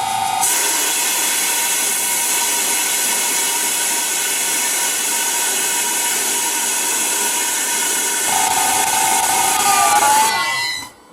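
A vintage metal lathe turning at 800 RPM with a high-speed steel cutting tool gives a loud, continuous high whine and hiss lasting about ten seconds, shifting slightly in tone near the end before winding down abruptly.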